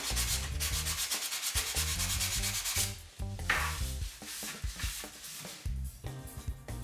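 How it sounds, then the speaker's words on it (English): Steady back-and-forth rasping of sandpaper rubbed by hand over a dent in a wooden sideboard top, close and continuous, with brief pauses between strokes. "Now I'm sanding on top of the dent."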